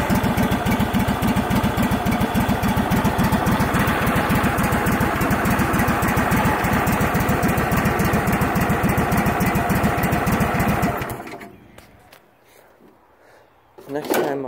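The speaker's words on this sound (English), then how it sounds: "Now that is a smooth idle. Choke all the way off, throttle all the way down." The small engine of a Craftsman GT3000 lawn tractor idles smoothly and loudly up close, with choke off and throttle down, a steady even chug that cuts off near the end, leaving brief quiet before another rumble.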